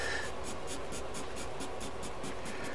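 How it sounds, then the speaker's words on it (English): Graphite pencil lightly sketching the basic shapes of old trees for a spring landscape, producing a steady soft scratching with a regular stroke rhythm, close and quiet, with no voices. "So I'm not pressing hard with this pencil."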